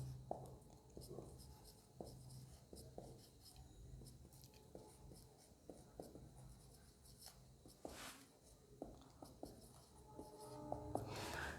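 Chalk or marker scratches across a classroom board in short strokes and taps, soft and close, with a teacher's voice faintly talking in between during a maths lesson on unit rates.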